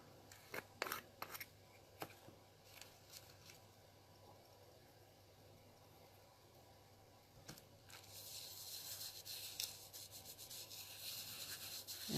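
Ultra fine glitter being burnished onto a holiday bauble, a soft, faint rubbing and brushing close by, with a few light taps at the start and steadier, louder scratchy friction toward the end.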